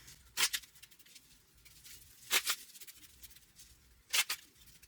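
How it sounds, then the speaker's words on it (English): A deck of playing cards is shuffled three times in short bursts of crisp riffling, each lasting about a quarter second, with quiet handling pauses between them; near, fairly faint, and no talking. "We're going to shuffle these up"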